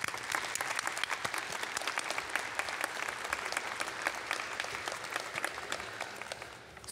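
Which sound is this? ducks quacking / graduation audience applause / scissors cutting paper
graduation audience applause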